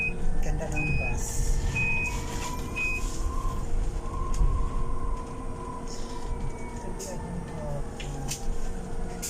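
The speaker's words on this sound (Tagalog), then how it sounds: "Ganda ng bus." Bus reversing nearby with evenly spaced high beeps over a rumbling idling engine, traffic noise and people talking.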